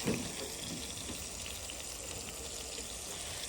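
Water runs into a cooking pan as a soft, steady pouring wash, faint and continuous throughout, with no voices heard.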